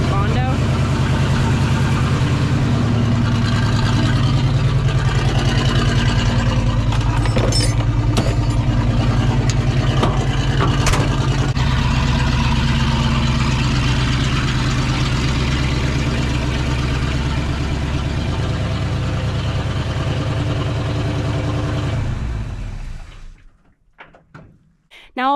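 An old Ford F-100 pickup truck engine runs at a steady, loud, close idle for about twenty-two seconds with a few sharp clanks along the way, then shuts off and fades to near silence.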